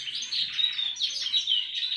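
Wild birds chirp and tweet continuously in a quick, busy chorus of high calls, fairly close and clear, with no voices.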